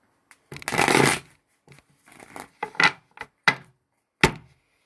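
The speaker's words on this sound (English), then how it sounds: "Let's go ahead and give it one more shuffle." Tarot cards are shuffled in a quick riffling burst, followed by several sharp taps and soft thuds as the deck is squared on a surface.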